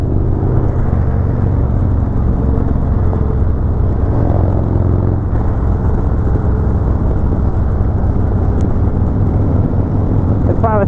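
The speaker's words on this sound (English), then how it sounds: "it's so cool to like hear your motorcycle from behind" A motorcycle drones steadily as it rides, its engine heard from behind as a loud, continuous low rumble with wind noise throughout.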